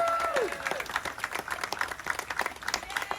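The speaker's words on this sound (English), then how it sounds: "this one really needs the big round of applause" Applause from guests at a 175th anniversary cocktail party, a dense wash of many hands clapping at moderate distance, steady and sustained with a crowd murmur underneath.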